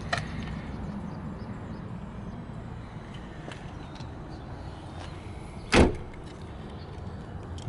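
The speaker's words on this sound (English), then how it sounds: "You can open up the glass with the key like that." The rear glass of a 2012 Jeep Liberty Sport is opened with the key, giving a single sharp latch clunk near the end against a low, steady background rumble.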